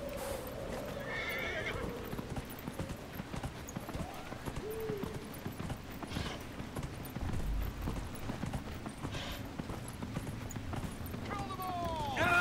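A horse's hooves clip-clop at a steady gallop under Dragon Age: Inquisition game ambience, with an occasional neigh and a voice speaking briefly.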